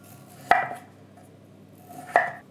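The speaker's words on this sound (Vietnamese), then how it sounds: "Mình dùng khoảng 150g bông cải xanh, cắt nhỏ vừa ăn rồi rửa sạch với nước muối loãng." A knife chops broccoli into small pieces, giving two crisp, close knocks on a cutting board about one and a half seconds apart, with quiet in between.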